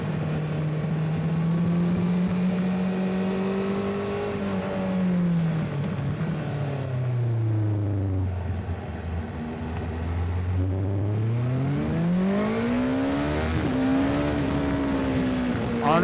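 A 2024 BMW S1000RR superbike engine on the move, loud and close, its pitch rising and falling steadily through gear changes and acceleration, with a sustained high-revving whine over wind noise.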